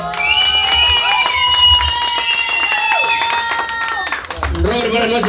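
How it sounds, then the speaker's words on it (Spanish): Applause and cheering from a crowd at a serenade, clapping under loud whistle-like tones and voices, ending as speech resumes. "Y el aplauso para Robert, bonito el aplauso, por favor."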